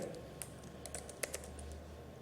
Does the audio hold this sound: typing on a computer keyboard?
yes